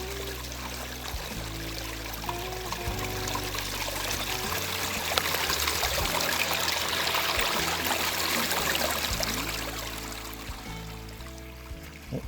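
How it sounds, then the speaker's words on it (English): Water pours and trickles steadily in a spectacular garden water feature in the Granite Belt, a continuous close splashing flow that swells slightly mid-clip before easing, with no talking. "show you a very, very spectacular water feature"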